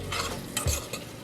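Chopped onions and mushrooms cook together in a pan, a brief, soft sizzle with a couple of spatula scrapes and a low thump, heard alone.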